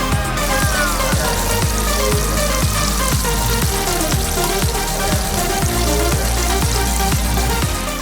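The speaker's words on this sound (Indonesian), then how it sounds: "Kalau sudah, tinggal kita goreng ke dalam minyak panas." Flour-coated fish crackles and sizzles in hot oil, a loud, dense, continuous frying with rapid bubbling pops throughout.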